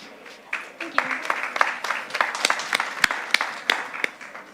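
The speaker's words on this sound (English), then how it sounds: "can I please have a very warm applause for Judith" Applause from a pitch-event audience on a discovery stage, welcoming a presenter: a sparse, uneven scatter of individual claps that builds a little and stays moderately close, with no speech over it.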